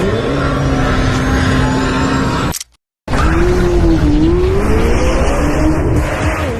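A Lamborghini Temerario with a high-revving engine screams loudly on a racetrack, its pitch climbing through the gears, cut by a brief silent gap before the engine roars again at high revs.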